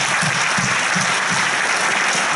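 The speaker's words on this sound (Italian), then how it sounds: "Un applauso per tutti voi." Brief burst of dense, steady applause from the audience at a national political assembly in Rome, loud throughout with no talk.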